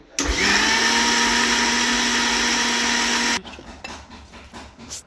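An electric blender whirs loudly and steadily for about three seconds while blending apples with a little sour yogurt for a diet shake, then cuts off, leaving quieter kitchen handling noises.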